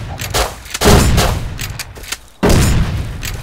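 Loud, close gunfire bursts in the survival game Rust, heavy booming shots in rapid clusters with a short pause before another burst, no talking over them.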